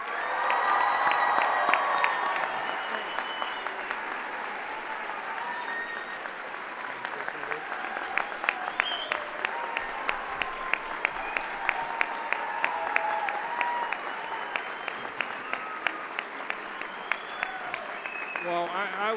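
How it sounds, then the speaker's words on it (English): Audience applause at a high school commencement ceremony for Don Soffer Aventura High School, a sustained roar of many hands clapping with occasional cheers and louder individual claps, continuing steadily for a long stretch. "thank you very much for your complimentary applauding"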